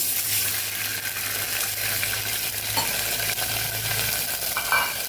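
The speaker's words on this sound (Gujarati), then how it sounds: "અડધાથી ઓછા ગ્લાસે એક વાટકી જેટલું પાણી આપણે વઘારમાં ઉમેરશું" Steady, loud sizzling hiss as water is added to a hot tempering in the pan, with faint stirring and scraping sounds throughout and no talking.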